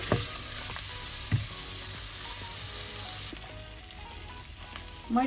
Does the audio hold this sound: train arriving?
no